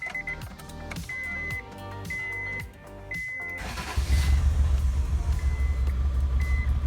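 A 1988 Acura Legend after a tune-up cranks with repeated whirring starter turns and a chiming warning tone, then catches and settles into a steady low idle.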